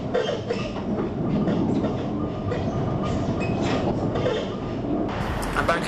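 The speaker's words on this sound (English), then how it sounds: "Heading back to the UK on the Eurotunnel" Eurotunnel train running through the tunnel, a steady loud rumble and rattle of carriages with faint clickety-clack, continuous throughout, with a brief brighter hiss near the end.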